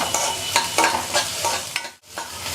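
Onions roasting in oil in a pan for paneer masala, a steady close sizzle broken by repeated stirring scrapes, with a brief dip to near silence toward the end before the frying resumes.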